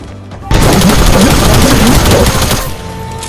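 A loud, sustained burst of automatic gunfire from a video game weapon, rapid close shots for about two seconds, with a faint voice underneath.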